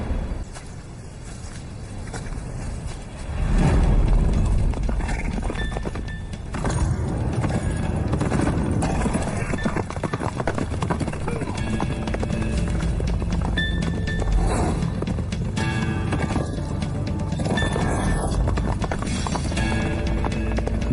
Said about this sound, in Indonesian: Suara derap kuda 3 kali keras, 1 kali ringan, langkahnya tidak cepat.